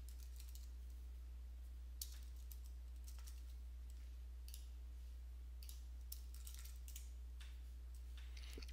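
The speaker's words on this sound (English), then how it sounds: "I just typed in the keyword sales" Fingers tap out a short keyword on a computer keyboard in sparse, light clicks, heard close and faint over a steady low electrical hum.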